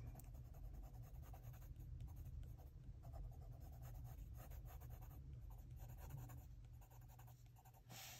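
A colored pencil scratches lightly and steadily across paper, going over already drawn lines in a continuous soft scribbling close to the ear.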